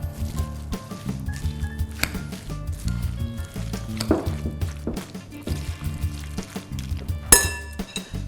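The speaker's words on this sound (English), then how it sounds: "Now everything's in the bowl, I'm just going to mix it together." Homemade coleslaw with white onion and whole grain mustard being stirred in a bowl, with repeated close clinks and soft scraping of a utensil against the dish over a low, steady background hum.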